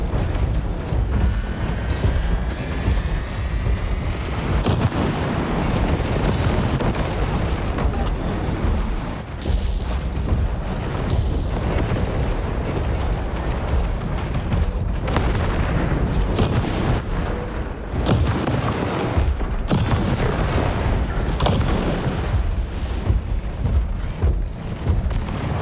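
Missile explosions and heavy mechanical combat noise in the mech game War Robots: Frontiers, with dense, loud booms and rumbling blasts running continuously through the whole stretch, no voices.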